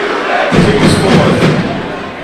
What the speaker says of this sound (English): The Staley crowd letting them know.